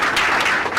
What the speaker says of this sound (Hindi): एक बार तालियां हो